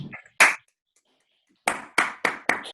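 A small audience claps after a scientific seminar on black holes: a couple of isolated claps, a pause, then a short run of separate, evenly spaced claps picked up close by the microphones.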